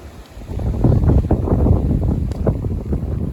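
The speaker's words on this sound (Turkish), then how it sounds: "Havada çok rüzgar var." Strong wind in an olive grove buffets the microphone in loud, gusty low rumbles that rise and fall unevenly.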